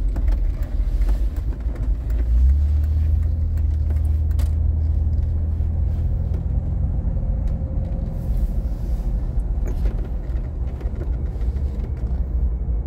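Mercedes Brabus G300 short-wheelbase 3.6 driving, a steady low engine and road rumble from inside the cabin that swells slightly after two seconds and holds at a constant loud level throughout.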